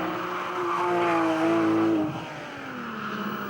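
A Porsche 911, either a GT3 or a Turbo, races and drifts up the Laguna Seca corkscrew, its engine note climbing in a strong sustained rev, then dropping off as it shifts and pulls away, loud and close.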